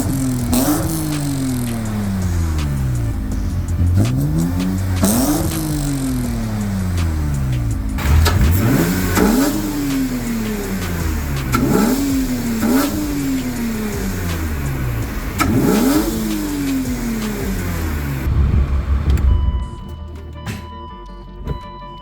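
Car engine with a freshly repaired cam timing and VANOS system, revved in a series of quick sharp blips that rise and fall back to idle, close and loud, before cutting off near the end.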